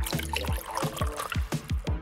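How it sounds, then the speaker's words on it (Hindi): A cup of water pours steadily into a homemade honey mixture for a DIY craft, giving a close, continuous trickle broken by repeated splashy gurgles. "अब इसमें एक कप पानी डालेंगे"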